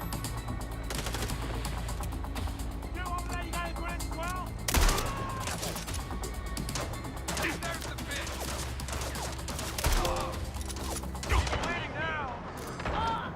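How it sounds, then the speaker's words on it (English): Shotgun blasts and scattered gunfire in the Western video game Red Dead Redemption 2, dense and continuous with sharp louder reports near five, ten and eleven seconds, mixed with game music and effects. "Are you seeing how these guys are reacting to direct shotgun fire?"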